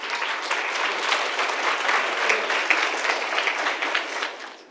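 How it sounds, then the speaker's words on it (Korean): A wedding crowd claps steadily and loudly for several seconds, a dense, even wash of applause that fades slightly at the end. "큰 박수로 맞이해주시길 바라겠습니다"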